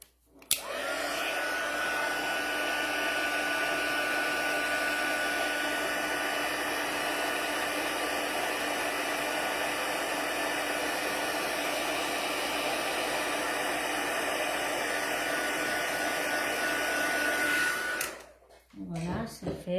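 A heat tool blows a constant loud whirring hiss for about seventeen seconds while heating embossing powder on a handmade card, then switches off and spins down.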